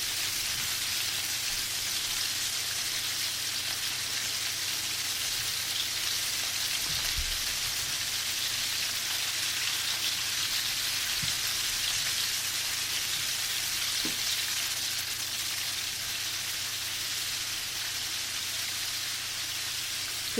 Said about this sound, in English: You can see it's frying now.